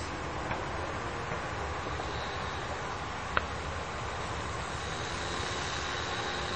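A P-39 Airacobra scale RC model plane powered by an OS .46 engine drones steadily in flight, a continuous broadband engine buzz heard from a distance with no talking.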